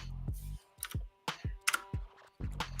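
Someone types on a loud, clacky computer keyboard, with sharp uneven bursts of keystrokes separated by brief pauses, close and prominent with no talking.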